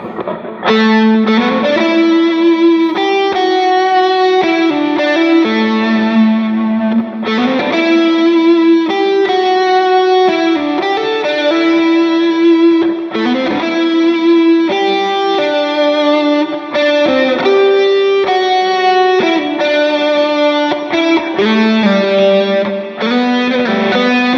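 A heavily distorted electric guitar plays a sustained melodic line with effects, loud and continuous for the whole stretch.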